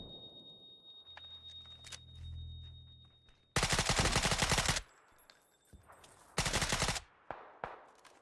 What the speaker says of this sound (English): guy's still shooting us